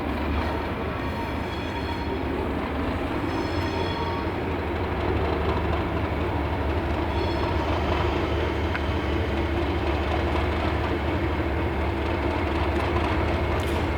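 A Class 37 diesel locomotive, number 37800 of Rail Operations Group, at Glengarnock station in Scotland, gives a steady, loud rumble with rail noise throughout, and no voices are heard.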